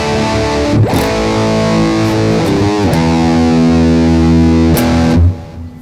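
A restored electric guitar rings out through heavy distortion, sustained chords struck a few times and left to ring, loud and thick before cutting off abruptly near the end.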